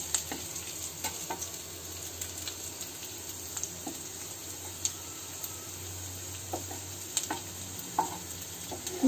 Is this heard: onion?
yes